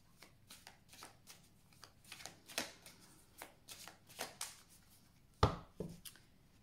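A deck of tarot cards being cut and handled, a run of soft papery flicks and taps with a sharper snap near the end, close and quiet, with no talking.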